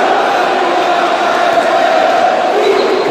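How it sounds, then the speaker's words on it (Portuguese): A futsal crowd at an industry and commerce tournament match roars in a dense, loud, continuous wash of cheering and shouting, steady throughout with no pauses. "Torcida inflamada."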